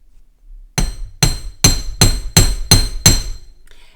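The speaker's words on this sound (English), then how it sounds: "So excuse the noise. Plug your ears for hammering." Seven sharp metallic hammer strikes on metal wire ring out in a steady rhythm, close and loud, each with a bright clinking ring, no talking.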